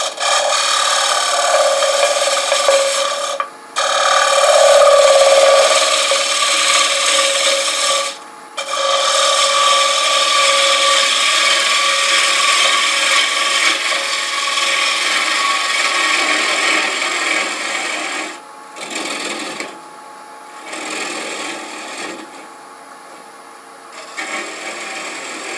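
A 3/8 inch open C-flute gouge with a fairly blunt edge takes a light finishing cut on a wooden jewelry box spinning on a lathe, a steady close scraping rasp that runs almost without a break, dropping out only briefly.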